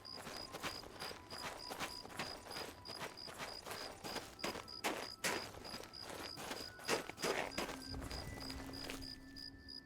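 Hooves of a horse clip-clop in a rapid, even rhythm in the video game Oblivion, crisp and fairly close, with a thin tonal game sound running beneath and the steps fading near the end.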